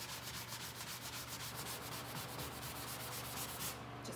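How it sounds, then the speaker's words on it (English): A sanding block rubs lightly over paint and wax on a wooden buffet in quick, even back-and-forth strokes, a steady close scratchy rasp heard alone. "I'm just gonna lightly sand over it, and that's gonna even rub off a little of the wax"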